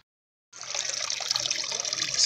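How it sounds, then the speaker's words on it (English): Spring water runs from a fountain near Subiaco, a steady close rushing splash that starts abruptly after a brief silence and continues evenly. "Spring water, guys, wonderful."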